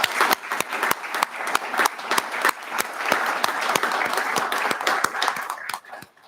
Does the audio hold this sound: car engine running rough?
no